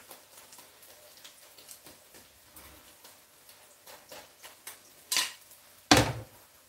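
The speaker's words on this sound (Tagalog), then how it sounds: "Takpan ko siya, guys, para maluto yung loob ng ating niluluto" A lid settles onto a cooking pot over a low flame: two sharp metallic clanks near the end, the second louder and ringing briefly, after a stretch of faint ticking and rattling close by.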